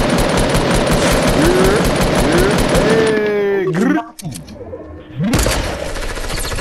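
Rapid, loud automatic gunfire during a Fortnite match, firing in sustained bursts with game effects and a voice speaking over it, then cutting out briefly near the end before noise resumes.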